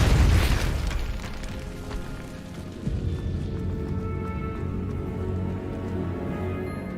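Spell blasts in Hogwarts Legacy, an opening burst followed by a second thud near three seconds, then a low rumbling decay in a catacomb-like space, with no talking.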